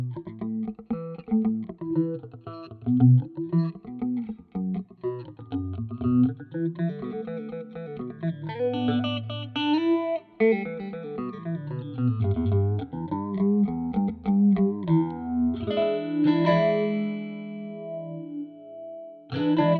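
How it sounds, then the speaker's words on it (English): A dirty, funky clavinet line sweeps through a deep, swirling MoogerFooger-style phaser plugin, its gritty notes rising and falling in a slow whooshing motion, moderately loud and alone. "Definitely a deep phaser. Dirty clavinet phaser."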